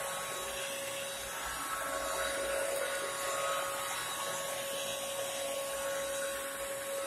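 A Bissell CrossWave wet dry vacuum cleans a rug with a steady, high motor whine and airy suction hiss that stay even throughout, close and continuous with no talking.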